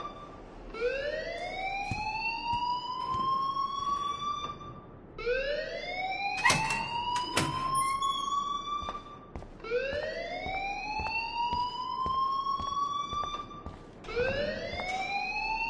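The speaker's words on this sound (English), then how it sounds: "please turn off that alarm since that's your job" A loud siren-like alarm wails in the game Life is Strange, each tone rising in a long upward sweep and repeating about every four seconds, with a few thumps between cycles.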